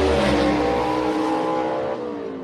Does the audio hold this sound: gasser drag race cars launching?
yes